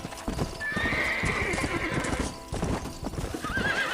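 Horse hooves clip-clop in a rapid galloping rhythm in the video game Red Dead Redemption, with loud whinnies and a steady rumble of movement throughout.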